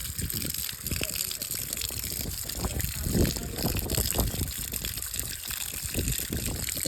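Dusty garlic is rinsed and rubbed in water close by, with steady splashing and sloshing, and a voice speaks faintly in the background.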